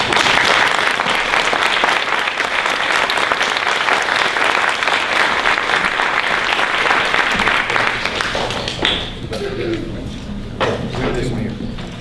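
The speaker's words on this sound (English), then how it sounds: "Let's give a big round of applause." Loud, sustained applause from a large audience at a school board meeting fills most of the clip, thinning out near the end as a voice begins speaking.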